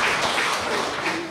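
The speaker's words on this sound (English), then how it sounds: "You can start the clapping now" A crowd applauding steadily at a literary event at the Wheeler Centre, a dense wash of many hands clapping at once without a break, fairly close and moderately loud.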